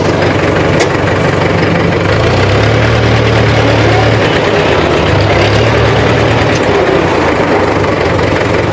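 A Mahindra 575 DI tractor engine idles steadily with a low diesel throb and vibration, loud and close, with a brief shift in tone as the gears are moved into reverse.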